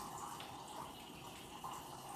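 Water runs steadily from a tap into a cup, a soft continuous trickle and splash with no speech.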